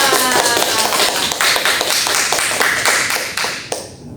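Classroom applause during a microteaching lesson on electrolyte and non-electrolyte solutions: dense, steady clapping from a group of students, loud and close, carrying through the clip before fading at the end.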